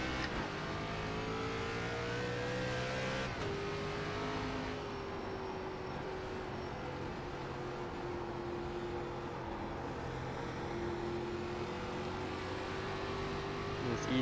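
An ARCA race car in the iRacing sim pulls away at the green flag at Milwaukee. The engine drones steady and fairly close, then gradually rises in pitch as it eases onto the throttle, with no talk.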